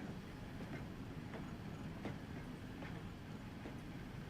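A tram in the game Transport Fever rolls along with steady low rumble and faint rhythmic clicks of wheels on track, a continuous moderate rail sound without talk.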